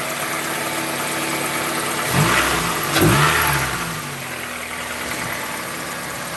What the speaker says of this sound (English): I got a lot of noise coming from the alternator here is making some noise.